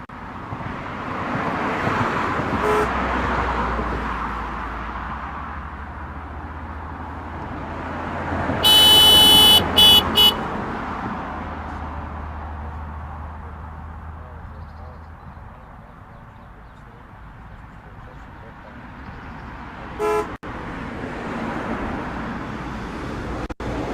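Car horns honking in traffic, one short honk partway through and another later, over a steady roadway rumble of passing vehicles, fairly distant.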